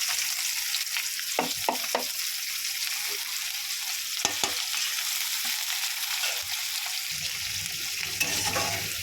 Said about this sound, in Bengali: পেঁয়াজটা লাল করে ভেজে নেবো বন্ধুরা